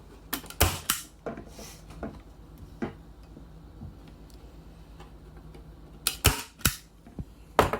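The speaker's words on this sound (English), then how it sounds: "Staple." A staple gun drives staples through canvas onto a wooden frame, with several sharp, close snapping clacks spread irregularly between quiet handling noises.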